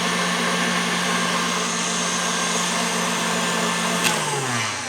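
An electric mixer whirs steadily at full speed, beating sponge cake batter with vanilla, a loud continuous motor drone that dips in pitch near the end as it slows.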